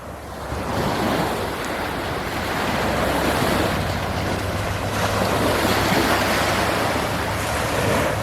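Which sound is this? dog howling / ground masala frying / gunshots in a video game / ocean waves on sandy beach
ocean waves on sandy beach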